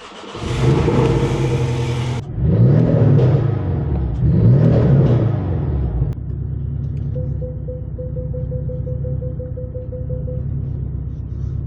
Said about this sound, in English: let's go ahead and pull the Porsche out